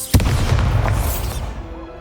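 A Bombarda spell explodes in Hogwarts Legacy: a single sudden, loud boom with a rumbling tail that fades over about a second and a half into quiet.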